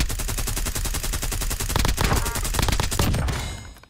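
Loud, close automatic fire from a Krieg rifle in the Call of Duty video game: a rapid, evenly spaced stream of shots that runs for several seconds and tails off at the end.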